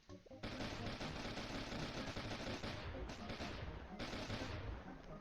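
A cannon spammer in Roblox Bee Swarm Simulator fires continuously in a dense, loud barrage of rapid blasts that runs almost without pause for several seconds.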